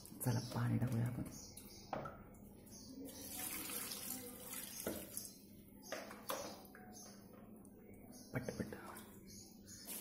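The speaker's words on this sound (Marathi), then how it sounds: "चला पाणी टाकूया आपण." Water runs from a tap in a home garden while plants are being watered, splashing and gurgling unevenly with a few bursts and pauses, and soft voices murmur faintly underneath.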